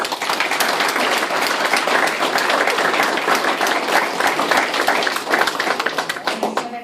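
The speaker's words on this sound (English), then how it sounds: "So let's give them a round of applause." Audience applause at a League of Women Voters forum for village trustee candidates in Sugar Grove, Illinois: dense, steady clapping from a room of people, loud and close, continuing evenly for about seven seconds.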